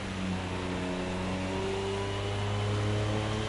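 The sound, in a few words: LMP race car engine at speed, Project CARS 2 video game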